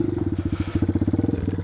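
1987 Yamaha TW200 Trailway motorcycle on ice, its single-cylinder engine thumping in a rapid, even pulse up close during a clutch launch.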